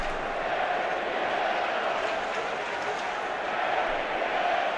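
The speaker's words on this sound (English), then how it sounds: "Listen to that crowd." A packed baseball stadium crowd at the 2015 Cubs vs Pirates NL Wild Card game keeps up a steady, dense roar of cheering that fills the whole stretch.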